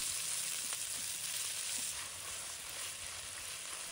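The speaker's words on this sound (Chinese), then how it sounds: "把肉末给放入锅中，将它炒散，炒至变色。" Minced meat stir-fried in a wok over medium-low heat with ginger and garlic gives a loud, steady sizzle and crackle that runs unbroken for the whole stretch, close up, with no talking.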